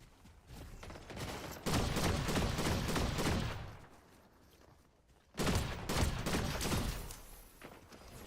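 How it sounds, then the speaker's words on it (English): Sustained bursts of automatic gunfire from another player in a shooter video game, two long volleys split by a quieter lull of several seconds, fairly loud and close. "Someone else shooting."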